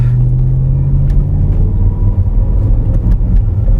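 A 2013 Land Rover 5.0L engine running rough, a loud, steady low rumble with uneven, wavering tone and slight dips in level throughout, heard up close with no voices.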